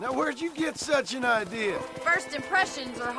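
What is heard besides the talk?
No distinct noise like a dog, phone or traffic.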